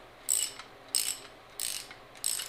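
Spring compressor tool ratcheting on a Nova/Camaro front suspension coil spring, four short metallic ratchet strokes in an even rhythm, close and clear with no talking.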